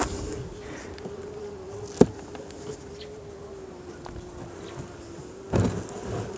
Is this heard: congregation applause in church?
no